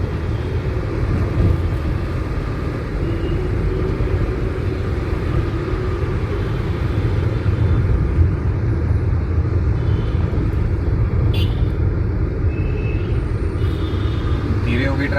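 A car cruising steadily in fourth gear at about 38, giving a continuous low engine and road rumble throughout, with a voice talking over it.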